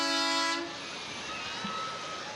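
A loud, sustained vehicle horn blares for about half a second during the 107th Winnipeg Santa Claus Parade on Portage Avenue, cutting off sharply and leaving outdoor street noise.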